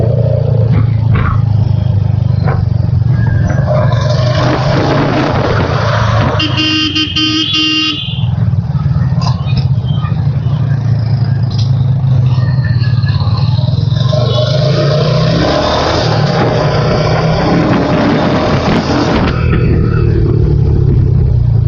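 Royal Enfield Hunter 350 motorcycle engine running, a loud, steady low rumble close by on a ride, with a short horn blast partway through and traffic noise around.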